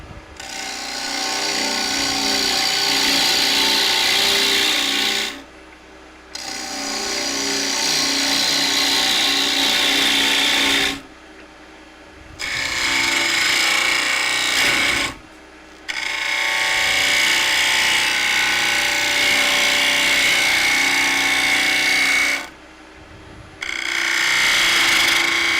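A bowl gouge cuts an ash nut bowl on a lathe, giving long loud stretches of rough, chattering wood-cutting broken by brief pauses where the tool lifts off.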